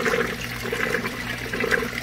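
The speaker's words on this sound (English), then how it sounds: "You can see it's still cavitating a little bit, sucking some air." A water pump in a DIY bucket filter for a guppy pond cavitates and sucks air, giving a close, steady gurgling churn of water with bubbly sputters.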